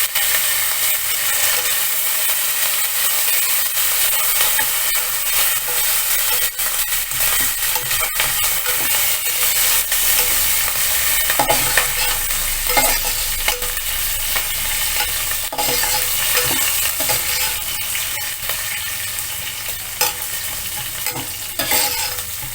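Green chillies and curry leaves fry in a cumin tempering, giving a continuous bright sizzle with occasional stirring scrapes and clicks. It is loud and close for about twenty seconds, with no talking.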